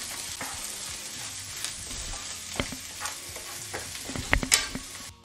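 Garlic, cilantro and vegetables being sautéed in a pan for Panamanian coconut rice, with a steady soft sizzle broken by scattered spoon scrapes and clinks that grow a little louder toward the end, with no talking.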